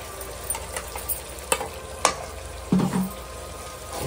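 Blended tomato puree hitting a hot pan with ginger, giving a steady soft sizzle with a few stirring scrapes and a louder burst of frying near the end, no talk.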